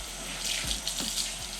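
Tap water runs steadily into a sink as hands are washed beneath it, a close, continuous splashing with a few brief louder gurgles.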